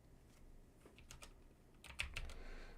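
Quick clicking keystrokes on a computer keyboard as someone types into a livestream chat, a light, close patter of taps that grows slightly denser toward the end.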